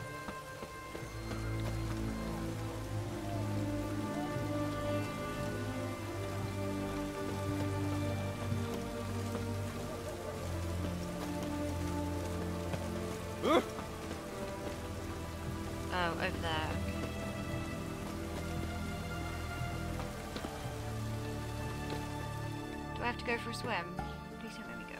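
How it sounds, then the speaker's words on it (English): Steady rain falls in a video game scene from The Witcher 3, a dense continuous hiss running throughout beneath in-game music and characters talking, with a few brief sharper sounds near the middle and end. "Looks like rain."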